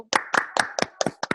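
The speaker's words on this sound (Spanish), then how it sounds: "Yo lo que tengo en este momento es un aplauso para el doctor Lema y para todos los doctores, enfermeras, personal de salud de nuestro país" Applause for Doctor Lema and the country's health workers comes as a quick run of about seven sharp, close handclaps in a fast, slightly uneven rhythm.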